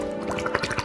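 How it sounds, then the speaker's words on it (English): A drink poured into a glass during a dry-ice milkshake preparation, giving a short run of liquid splashing and dripping, close and moderately loud, with no talk over it. "Pouring our drink into a glass."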